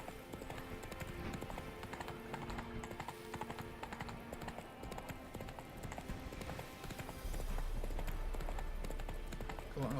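Horse hooves clip-clop in The Witcher 3, a steady rhythmic trot under continuous game music and ambience, with a louder rumbling passage near the end.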